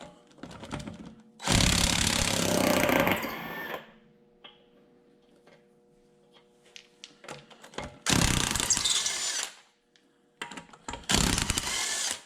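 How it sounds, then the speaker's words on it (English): A power tool drives a 13/16 socket to take the wheel off a 2018 Malibu during front brake rotor work, firing in three loud rattling bursts of a few seconds each, separated by quieter pauses with faint shop noise. "So you want to start out with a 13/16 to remove the wheel."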